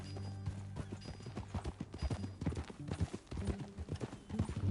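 Horse hooves clip-clop in Red Dead Redemption 2 as a steady run of thudding beats, moderately close, over a low background bed with no speech.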